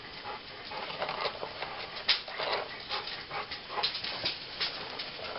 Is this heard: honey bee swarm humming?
no